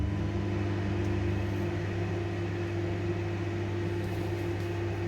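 Oven running steadily while home-made brownies bake inside, a constant low mechanical hum with a fan-like whir holding even and close for several seconds, no voices over it.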